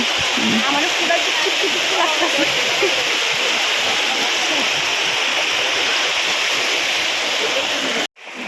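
Steady, loud rush of floodwater around a half-submerged house in Assam, a continuous broad wash that cuts off abruptly at the end.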